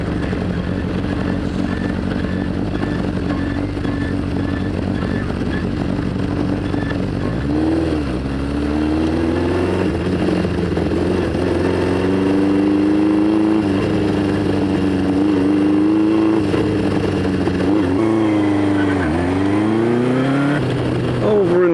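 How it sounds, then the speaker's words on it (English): Continuous road traffic with engines droning and a vehicle accelerating and revving past, rising and falling in pitch over a steady background hum. "A lot of traffic this morning."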